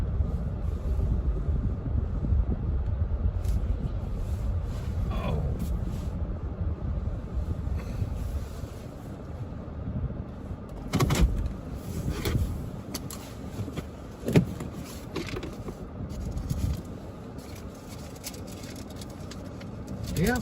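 Car on a road trip, steady engine and road rumble with wind noise throughout, a few brief clunks and bumps over the drive.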